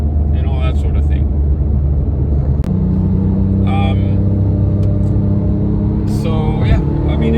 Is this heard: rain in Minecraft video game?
no